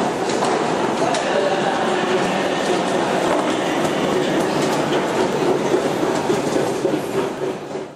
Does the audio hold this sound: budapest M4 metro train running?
yes